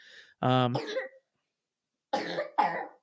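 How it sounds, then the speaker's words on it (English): A person coughs twice in harsh bursts, then after a pause gives two more rough coughs, close and fairly loud. "just got a cough and it won't go away."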